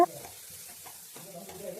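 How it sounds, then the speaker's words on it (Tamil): Tomatoes and chili powder sauté in hot oil with a steady low sizzle, broken by scraping stirs at a moderate, close distance; no voices. "வத்தப்பொடி போட்டு அதையும் நல்லா எண்ணெயிலையும் வதக்கி எடுத்துருவோம்"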